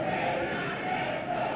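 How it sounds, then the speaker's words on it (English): A stadium crowd roars and cheers continuously in a dense, sustained wash of voices at a rugby sevens match in Machakos, Kenya, as fans urge on the home side. "Real cheering, loud cheering here in the stadium as the fans try to urge on the local side"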